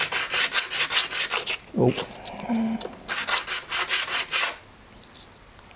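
Sandpaper rubbed against folding knife parts during a first knife build, a steady rhythmic back-and-forth scraping in quick strokes, loud and close, pausing briefly midway with a short spoken exclamation before the strokes resume and then stop.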